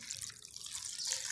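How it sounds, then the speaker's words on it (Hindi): Water pours steadily into a box, a continuous bright splashing wash that stays fairly faint and even throughout, with no voices. "इसके अंदर आपने डालना है पानी"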